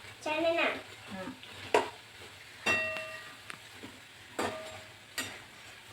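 Eggs frying until crispy in a pan, soft sizzling broken by several sharp clinks of stirring or scraping, with someone talking in between.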